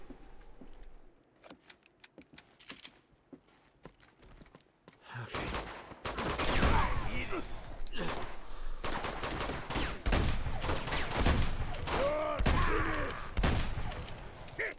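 Video game gunfire in Uncharted 2: Among Thieves, with scattered sharp shots at first, then dense, loud bursts of rapid fire and impacts that continue steadily to the end.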